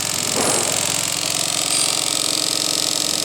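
Electric fuel pump of a 1959 Chrysler 300E running after the battery switch is turned on, a steady, fairly loud mechanical hum with fast regular pulsing throughout, alone without talk.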